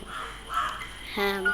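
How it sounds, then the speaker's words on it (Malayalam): A crow caws a few times in harsh, drawn-out calls in the horror game Granny, followed by a voice talking close by. "കാക്കൻ്റെ എല്ലാം ഒച്ചയുണ്ട് ഗൈസ്"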